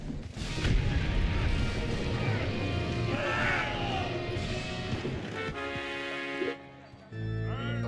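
Cannon artillery in Civilization Revolution fires in a rapid cluster of heavy booms and crashes, followed by game music and tones after a sudden drop.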